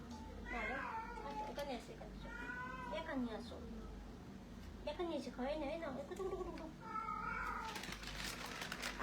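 A cat meows repeatedly at close range, drawn-out wavering cries separated by short pauses, over steady background noise.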